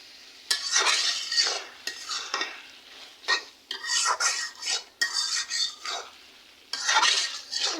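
A spoon scrapes and stirs curry in a pan, giving repeated rhythmic scraping bursts with a light sizzle underneath, close and fairly loud, with short pauses between strokes and no voices.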